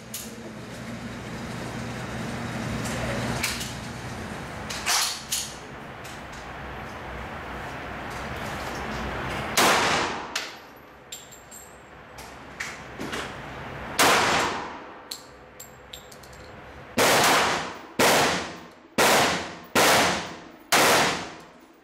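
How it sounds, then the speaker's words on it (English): Shots from a Colt Rail Gun 1911 pistol fired on a range: scattered sharp reports early, then a quick string of five loud evenly spaced shots near the end, each ringing out briefly. "Tammy, you got the Colt Railgun, 1911. Go ahead, let's see what you can do with that."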